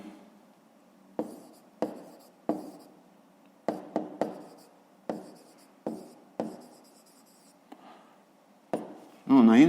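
Handwritten numbers for a fifth-grade math exercise, as a series of short, distinct scratching strokes of pen on paper, close and fairly quiet, spaced irregularly with pauses between them.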